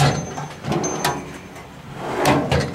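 A metal drawer on a Harbor Freight US General roll-around tool cart slides and closes, several close sliding rumbles followed by sharp clunks as the drawer latches, loud and alone.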